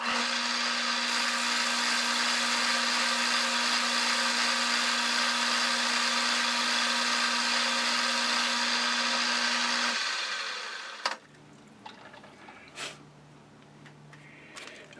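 Metal lathe taking a facing pass on a rear spindle spider workpiece: a loud, steady cutting whine with a constant hum runs about ten seconds, then winds down and stops abruptly, leaving faint workshop clatter.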